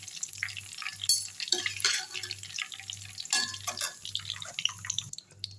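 Curry leaves fry in hot oil while cauliflower pakoda is being made, giving a steady soft crackle with a few brighter spattering bursts over a regular low rhythmic hum.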